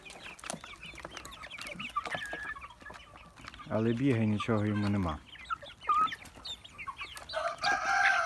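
White Leghorn chickens cluck and a young rooster lets out a loud crow midway, with someone talking over the birds before and after.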